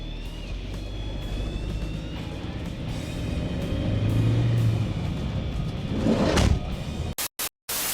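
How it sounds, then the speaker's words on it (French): A Renault Twingo is pushed along to try to start it, giving a continuous low rolling rumble that builds gradually. A brief louder burst comes near the end, followed by abrupt cut-outs. "on va essayer de la démarrer quand même à la poussette"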